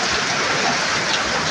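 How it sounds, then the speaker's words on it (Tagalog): Heavy typhoon rain pours in a steady, dense hiss close by at a pigeon loft in the Philippines, constant and unbroken, with no voices heard. "lakas na yung ulan"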